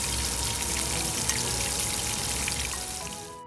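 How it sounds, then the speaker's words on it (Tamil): Marinated prawns fry in a little oil in a kadai, producing a continuous close crackling sizzle with small pops, steady and fairly loud before tapering off at the end. "கடாயில் கொஞ்சமாக எண்ணெயை சேர்த்து நம்ம மேரினேட் பண்ணி எடுத்து வச்சுருக்கிற ப்ரான்ஸை இந்த மாதிரி போட்டு ஃப்ரை பண்ணி எடுத்துக்கலாம்"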